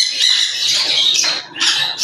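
A large pet bird squawks loudly and harshly while being handled, with two or three raspy bursts close up and no voices over the calls.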